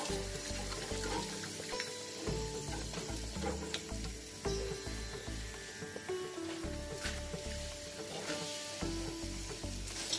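Sliced onions fry in hot oil until golden for yellow rice, a dense steady sizzle with occasional stirring scrapes, close and continuous beneath faint background music.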